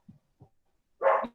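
Dogs barking nearby in a home, a couple of soft short yelps followed by one loud, broad bark burst, with no talk over them.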